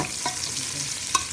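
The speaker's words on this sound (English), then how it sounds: "I'm cooking it in a deep pot." Onion apple glaze gravy for pork chops cooking in oil in a deep pot, a steady bright sizzle with two light spoon taps against the pot, close and free of talk.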